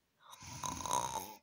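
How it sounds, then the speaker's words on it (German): A person snores in one drawn-out, rasping inhale, heard alone in a quiet room, close and moderately loud. "dass er einfach nur noch schnarcht"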